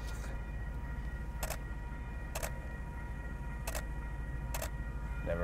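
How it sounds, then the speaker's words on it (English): At night in San Diego, a quiet, steady low rumble of a train rolling past, with sharp clacks repeating about once a second. "while we're sitting here waiting for the train to go by"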